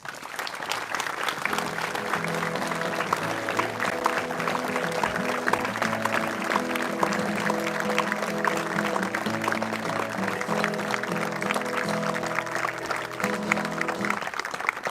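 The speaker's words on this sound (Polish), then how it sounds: "wielkie brawa dla Was" Applause for the residents of Aleksandrów at the Jasna Góra evening prayer, steady and sustained across the whole stretch, with sustained musical tones sounding beneath the clapping.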